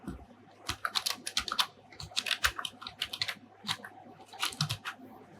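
Fingers type on a computer keyboard, sounding as quick, irregular bursts of crisp close-up key clicks with brief pauses between runs, set against a low, steady background hum.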